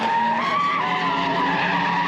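Tires squeal in a continuous, wavering screech as a car does donuts on an Oakland street, loud and close, over engine roar.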